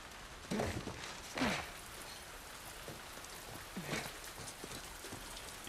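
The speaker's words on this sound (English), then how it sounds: "It's raining." Steady rain in The Last of Us Part II hisses softly throughout, broken by a few louder splashy thumps, with no speech.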